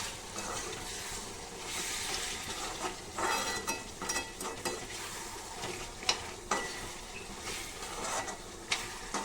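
Vegetables fry in a pan with a continuous sizzle, while a utensil stirs and scrapes through them in irregular bursts, close and fairly quiet.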